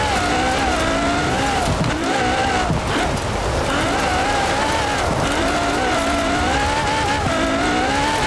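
A 2013 Ferrari LaFerrari in Forza Horizon 4 drives on dirt, its engine droning steadily and loud throughout with shifting pitch, mixed with a constant gritty gravel hiss from the tires.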